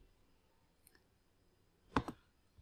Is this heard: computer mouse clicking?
yes